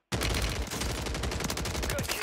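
Akimbo Glock 45 pistols in Warzone on Rebirth Island fire a loud, rapid, continuous stream of shots that starts abruptly and runs for about two seconds.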